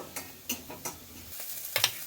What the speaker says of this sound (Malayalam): ഇപ്പോൾ കടുക് പൊട്ടിക്കുകയാണ്.